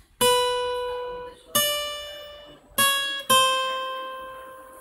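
Four plucked guitar notes stepping down a chromatic descending line, each ringing clearly with bright harmonics and decaying before the next attack, played alone and close.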